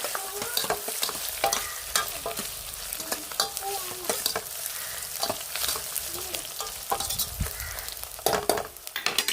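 Ginger garlic paste frying in a pan for a chicken fry: a steady loud sizzle with continual stirring scrapes and taps of a spatula, close up and without talk.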